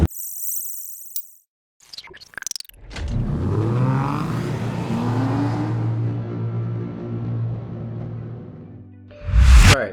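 A 2004 Ford Mustang Mach 1 Turbo with a repaired exhaust cutout revs up, its deep, loud engine rumble swelling and holding steady for several seconds after brief clicks and knocks, then a sharp blip of noise at the end.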